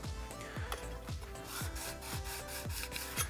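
A card scraper edge being worked to remove the burr, a close rasping rub repeated in even back-and-forth strokes of about half a second each, with faint tonal background music.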